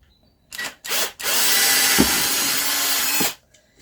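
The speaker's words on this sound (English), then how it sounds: "I'm going to go with the drill bit that matches the diameter of the screws" A power drill boring a screw hole in a wooden float frame revs in two short bursts, then runs steadily for over two seconds before stopping, close and loud with a grinding whine.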